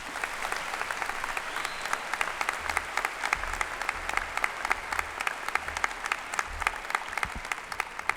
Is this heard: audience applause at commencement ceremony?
yes